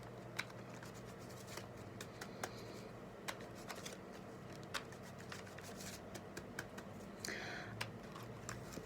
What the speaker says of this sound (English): We're just pulling some cards.